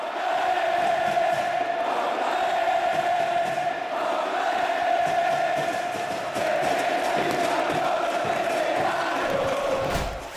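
The Racing Club supporters' group La Guardia Imperial, a large football crowd chanting and roaring in unison. The sound is a continuous, dense, loud wall of voices that swells slightly and then fades at the end.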